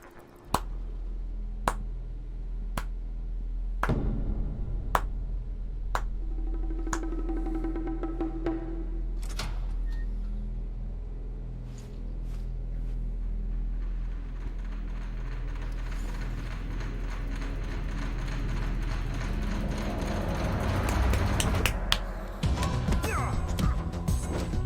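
Punch impacts in a PS5 video game trailer: a string of sharp, crisp hits landing in quick, uneven succession, then a denser stretch of clattering action over a constant low rumble.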